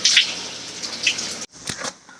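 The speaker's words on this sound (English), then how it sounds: "Tile floor and a rain shower head." Water pours steadily from a rain shower head onto a tile floor in a campground shower, a close, hissing spray that runs for over a second before cutting off, followed by a few scattered drips and splashes.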